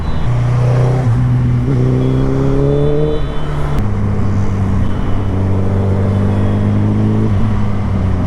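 Loud motorcycle exhaust in city traffic, the engine droning steadily close by with pitch rising and falling as it revs and shifts, constant without pauses.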